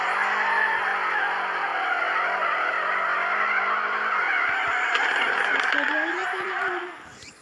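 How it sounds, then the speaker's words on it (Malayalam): Car drifting in the FR Legends mobile racing game, with a continuous loud engine drone and tire skid that holds steady, then shifts pitch and fades out at the end; no voice over it. "ഡ്രിഫ്റ്റ് അടിക്കും."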